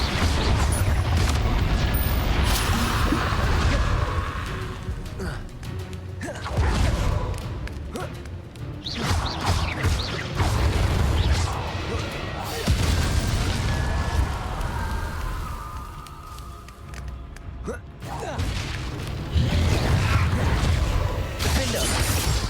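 Fiery explosive spellcasting in Hogwarts Legacy: repeated booming blasts and crackling impacts in a busy combat mix, with game sounds filling the background.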